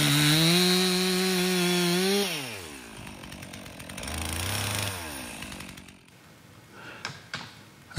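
Stihl MS 362 chainsaw cutting firewood, loud and close, the engine revving steadily, then bogging and dropping in pitch as it bites into the wood, rising again before cutting out, followed by faint handling clatter.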